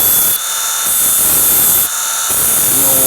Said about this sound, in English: Milwaukee grinder.